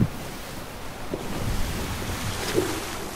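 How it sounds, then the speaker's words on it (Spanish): Player dropping into the sea in Sea of Thieves, with a splash amid steady rushing waves and wind noise, plus a few soft knocks. "me caí al agua"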